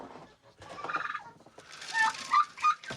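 Turkeys on a winter homestead gobbling in short, rattling bursts, near and fairly quiet, several calls overlapping.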